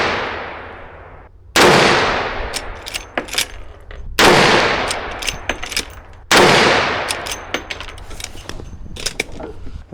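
A rifle fires Federal Premium ammunition at a target, three sharp, loud cracks spaced about two seconds apart, each trailing into a long decaying outdoor echo, with smaller clanks and clicks between shots.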